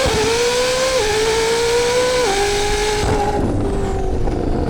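Koenigsegg CC850 supercar launching hard and accelerating, a loud, close engine note climbing through several quick gear shifts, each upshift dropping the pitch before it rises again, the roar easing and thinning toward the end.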